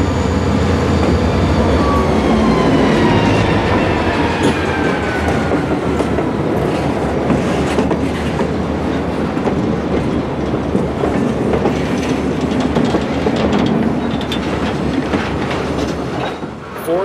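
Florida East Coast Railway freight train rolling past on the Medley lead, loud and close, with steady rumbling, rhythmic clickety-clack of wheels over rail joints and faint squeal throughout.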